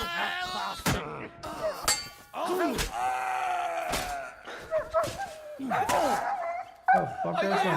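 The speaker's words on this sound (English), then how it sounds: "Oh, fuck, that's my dog." Dog in a video game barking in short yips and whimpering, several sharp bursts and whines mixed with excited shouting voices and game noise.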